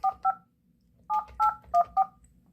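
Telephone keypad DTMF tones dial a test line: two quick beeps, a short pause, then a rapid run of four more evenly spaced tones, clear and close with no talking.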